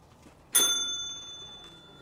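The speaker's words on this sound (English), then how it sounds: "Ring the bell." A single bright ding from a counter bell at a government office's front desk in Lake Isabella, struck once and ringing out with a slowly fading metallic tone in an otherwise quiet room.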